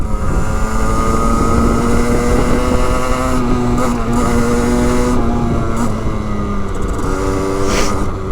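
A Sherco 50 SM-RS 50cc motorcycle engine revs high and holds near its limit, a loud, close, buzzing two-stroke whine that sits steady with slight rises and dips throughout.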